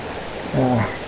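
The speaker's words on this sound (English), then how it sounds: "This is the first waterfall" Steady rushing water from the first waterfall on the Humber River fills the clip as a constant broadband wash, with a brief voice sounding over it near the middle.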